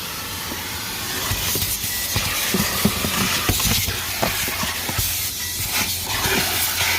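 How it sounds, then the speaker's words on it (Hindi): A vacuum cleaner at an automatic car wash in Canada roars with a loud, steady hissing rush, broken by repeated sharp clicks and knocks as the nozzle sweeps sand from the car's floor; no talking. "तो ये इस तरह का वैक्यूम होता है जी।"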